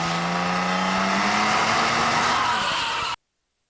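A car races on the Nürburgring Formula 1 circuit in Germany, a loud steady engine roar with a rising whine and some tyre noise, close by, ending abruptly in silence.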